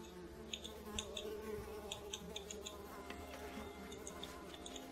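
Mosquitoes buzz in a swamp level of the video game Unravel, a close, continuous insect whine with small flitting rises and falls over a soft ambient bed.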